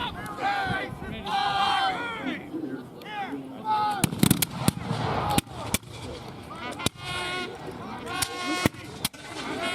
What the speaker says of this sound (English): with that volley from the American forces